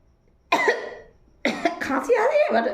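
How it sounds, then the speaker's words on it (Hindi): A person coughs once sharply, then after a pause gives a longer, rougher cough that trails into a strained throat sound, close and fairly loud. "खांसी आ रही है बट"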